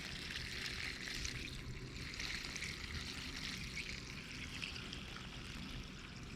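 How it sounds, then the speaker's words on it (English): Excess water poured gently from a bucket during gold prospecting on Lake Superior, a steady close trickling and splashing stream that holds at an even level throughout with no talk. "Very gently and carefully pour out the excess from this bucket."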